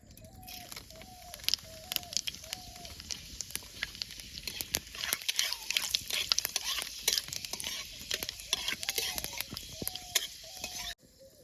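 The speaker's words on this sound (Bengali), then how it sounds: "গরম হয়ে গেছে সরষের তেল দিয়ে দেবো হয়ে গেছে তেলের মধ্যে পাঁচ ফোড়নটা দিয়ে দেবো" Panch phoron whole spices dropped into hot mustard oil for papaya chutney, crackling and popping in a busy sizzle with sharp spits throughout, fairly quiet and close.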